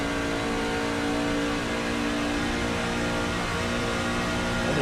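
Onboard a racing truck at Atlanta, the engine drones loudly and steadily at about 7,000 RPM, one continuous close roar with no voices.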